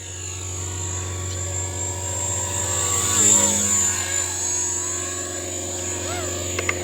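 A Blade Revolution 235 CP radio-controlled helicopter flies in idle-up mode, its rotor producing a steady high-pitched whine with a buzzing drone beneath that swells briefly as it passes closer, while a full-size airplane is also overhead.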